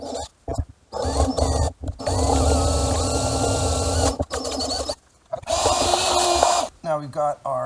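A power drill cuts 4 1/2-inch holes during a Starlink install on an EarthRoamer vehicle, in loud sustained bursts broken by short pauses, with a voice talking over parts of it.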